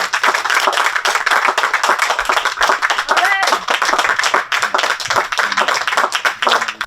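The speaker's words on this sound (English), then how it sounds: "please give a warm round of applause for the next MLA for South Surrey" A packed room at a re-branded Conservative Party of British Columbia event breaks into loud, sustained applause for Harman Bhangu, the South Surrey MLA candidate; dense clapping fills the whole stretch, with cheering and crowd voices mixed in.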